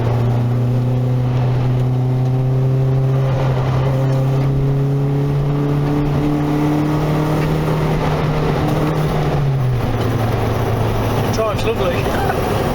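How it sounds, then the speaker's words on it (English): Steady, loud droning hum from a Nissan Sunny N13 with a CA18DE engine while driving, blamed on a worn wheel bearing; the tone holds constant and dips slightly near the end, with no talk over it. "I bet it's probably wheel bearing"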